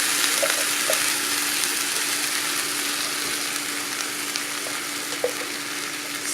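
Two cans of pork and beans poured into a hot pot send up a steady, close hiss of sizzling steam with a few faint clinks, no voices.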